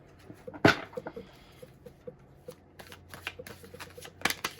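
Tarot cards being shuffled up close during a reading, with a loud riffle burst near the start followed by a series of soft, irregular card taps and flicks, and another sharp burst near the end.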